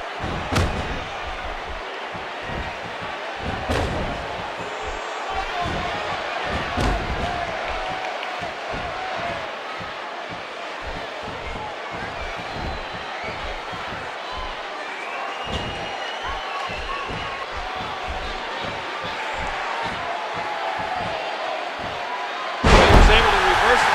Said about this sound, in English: The cheers for HBK already starting up from his home state fans.